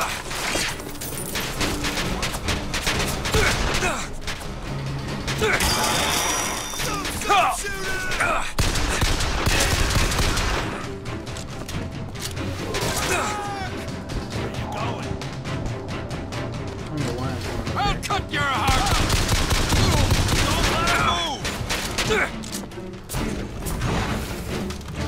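Gunfire in the shooter game Bioshock Infinite comes as dense, rapid volleys and scattered booms, close and fairly loud throughout, with occasional voices mixed in.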